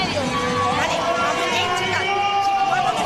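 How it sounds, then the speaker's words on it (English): A crowd inside the Madrid Arena at the Hexagon Cup 2025 padel event makes a loud, continuous roar of cheering and chatter, with a voice talking over it. "they've got the crowd going. There's a terrific, vibrant atmosphere inside the Madrid Arena."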